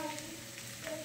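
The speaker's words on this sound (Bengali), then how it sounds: "কচু, মূলো, পেঁয়াজ বেশ ভালো মতো ভাজা ভাজা হয়ে গিয়েছে" Taro, radish and onion fry in hot oil with a steady, close, low sizzle that holds evenly throughout the short moment.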